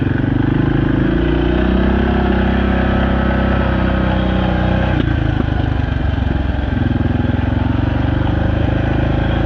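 A quad bike engine drones loudly and steadily while riding along a track through a small village, holding a continuous close buzzing note with slight shifts in pitch and no talk.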